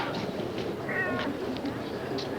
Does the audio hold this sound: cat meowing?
yes